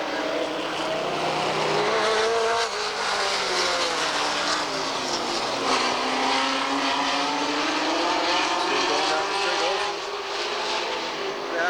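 Super stock race cars at Redwood Empire Raceway in 1985 roar continuously around the track as they head into traffic in turn 1, loud engine noise with shifting pitch and layered passes, under steady crowd and track ambience.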